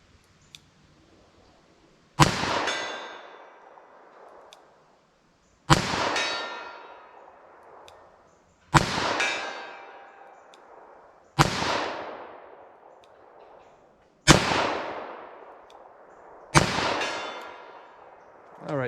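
.38 Special +P hand loads fired at a target 75 yards away: six loud, sharp gunshots spaced a few seconds apart, each cracking hard and ringing out in a long fading echo across an open range.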